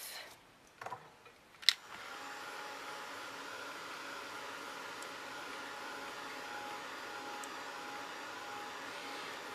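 A heat dryer drying ink on a craft tag, starting with a few knocks and clicks, then a steady, continuous whooshing blow that holds evenly to the end.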